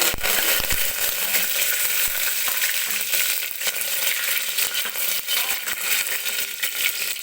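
Garlic and curry leaves hit hot oil with mustard seeds and cumin, giving a loud, steady sizzle and crackle that runs unbroken for the whole stretch, with no voices.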